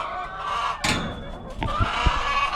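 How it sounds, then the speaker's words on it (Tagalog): Backyard chickens clucking inside their coop during cleaning, soft scattered calls close by with a rustling burst and a few bumps. "so yan mga kanaypi yung mga manok ko araw natin na paglilinis dito sa kulungan"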